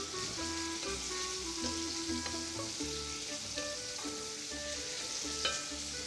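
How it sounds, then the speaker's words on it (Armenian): Steady close sizzling of meat browning in a frying pan, seasoned with salt, with a constant hiss and occasional soft pops and stirring clatter, no voices. "մինչ կտապակվի միսը"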